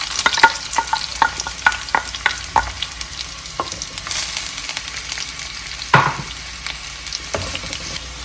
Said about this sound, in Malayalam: അപ്പോൾ സവാള നീളത്തിൽ അരിഞ്ഞിട്ട് കൊടുക്കുക.